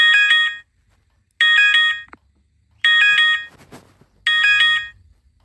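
Marshall Islands emergency alert alarm: four loud, identical bursts of harsh, buzzy multi-tone blaring, each about half a second, separated by short silent gaps, with a brief rustle between.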